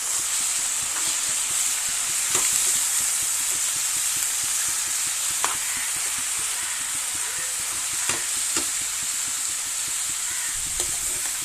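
Leafy greens frying in a pan on high flame, a steady loud sizzle and hiss with occasional soft clicks and taps of stirring, no voices.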